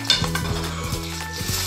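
Roasted cauliflower is tossed and mixed with an egg topping in a pan, giving a steady run of rhythmic scraping and stirring strokes with a faint sizzle underneath, close and moderately loud, with no talking.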